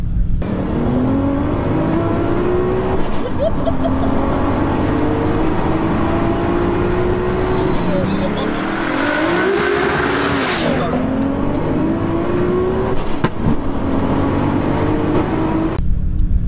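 Loud engines of drag-racing cars, including a roughly 1100 brake horsepower car and a Nissan GT-R, roar and rise in pitch as they accelerate hard from a 40 mph rolling start over a half mile, with rising whines and a sharp rush near the end; a voice talks underneath.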